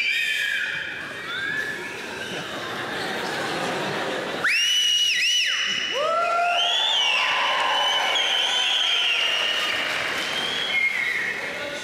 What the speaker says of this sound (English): Try those whistles once more.